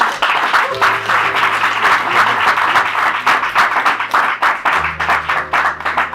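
A church congregation at a business seminar applauds loudly and steadily, with dense, continuous clapping that fills the room throughout.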